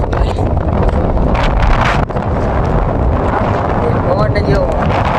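Strong wind blows by the river at Lunsariya village, buffeting loudly and continuously across the whole stretch, with people talking faintly underneath.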